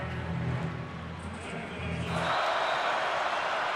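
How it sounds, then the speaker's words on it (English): A college football crowd at Minnesota's stadium, during a game against Western Illinois, swells from a low murmur into a broad, sustained roar of cheering that carries on to the end. "Minnesota crowd gets into it"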